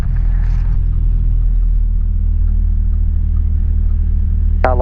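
Small airplane engine during a pre-flight run-up near runway 35, a steady loud droning rumble throughout with a brief higher whine near the end.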